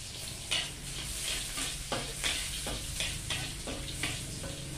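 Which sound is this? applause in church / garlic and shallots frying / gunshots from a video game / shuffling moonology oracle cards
garlic and shallots frying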